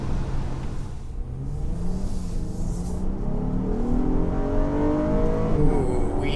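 A 2019 Honda Odyssey minivan engine accelerates into VTEC with a rising, climbing drone that grows louder and higher in pitch over several seconds.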